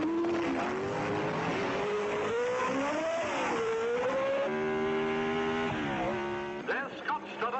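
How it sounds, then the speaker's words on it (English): Racing cars at the Monte Carlo Grand Prix scream past through the streets, a loud, sustained engine wail that rises and falls with gear changes, followed by a short burst of lighter noise at the end. "And he's just lapping a slower car. That can be tricky here at Monte Carlo."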